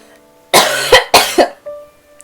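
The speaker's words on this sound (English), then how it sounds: "hold on, I'm gonna cough" Two loud, harsh coughs in quick succession, close to the microphone, with quiet background hum before and after.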